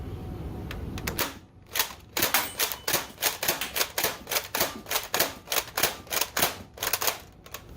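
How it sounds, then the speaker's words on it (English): An Adventure Force Conquest Pro dart blaster loaded with an 18-round magazine is slam-fired in a rapid series of about two dozen sharp, mechanical clacks, evenly paced and close by, after a short stretch of handling noise. "Gonna do one more slam fire test with the Worker 18 rounder."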